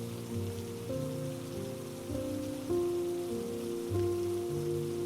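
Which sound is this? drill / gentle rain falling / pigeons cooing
gentle rain falling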